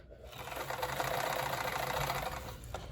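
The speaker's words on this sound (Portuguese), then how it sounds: "eu vou começar a costura com o tecido principal" A sewing machine stitches the fabric of a girls' handmade craft slipper in one steady close run of rapid needle clatter lasting a few seconds, with no voices.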